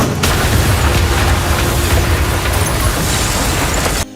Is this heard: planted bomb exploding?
yes